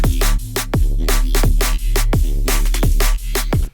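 Heavy neurofunk bass patch designed in Vital, processed with tape and convolution, pumping loud and continuous alongside a punchy drum beat with a steady kick pattern; no talking.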